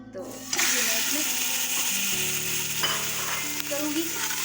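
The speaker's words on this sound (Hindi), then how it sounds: "अब इसको मैं 5 मिनट तक इसमें ऑयल में अच्छी तरह से ना फ्राई कर देती हूँ" About half a kilo of chicken wings sizzle and fry in two tablespoons of oil inside a pressure cooker, a loud steady hiss with occasional metallic scraping and stirring clatter throughout.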